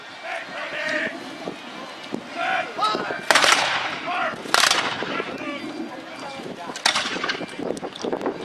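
Loud musket shots crack out at irregular intervals at a Napoleonic battle reenactment at Fort George, some close and some farther off, with voices and outdoor wind noise underneath.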